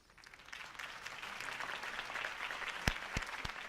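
Crowd applause in Batman: The Telltale Series swells steadily from a quiet start, a dense patter of many hands clapping, with a few sharp louder claps near the end.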